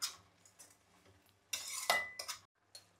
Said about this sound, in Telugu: కొంచెం ఆయిల్లో ఇవి వేసి వేపుతున్నాను